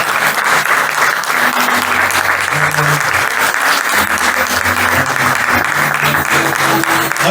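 A church congregation breaks into loud, sustained applause, dense and continuous clapping from many people filling the room, with faint music tones underneath.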